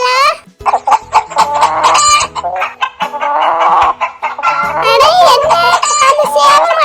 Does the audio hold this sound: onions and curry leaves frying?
no